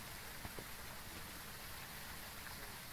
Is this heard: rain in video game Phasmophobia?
yes